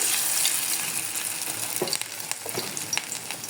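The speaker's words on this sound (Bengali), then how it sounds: "দেখো, এখানে আমি তেল বসিয়ে দিয়েছি এবং এই বড়াগুলো এক এক করে এখানে ছেড়ে দিব।" Onion fritters (piyaji bora) of ground lentil batter are dropped into hot oil, setting off a loud, bright sizzle that fades slightly, with crackles and pops at close range and no talking.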